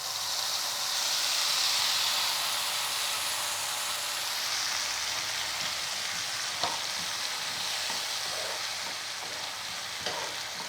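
Mustard seeds and freshly ground mint paste fry in a hot pan, giving a steady, fairly loud sizzle and hiss throughout, with a few faint pops and stirring clicks toward the end.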